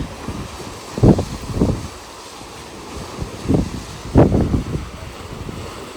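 Strong wind in Sorrento roars steadily across the microphone, with louder buffeting gusts bursting through every second or two over a constant rushing background.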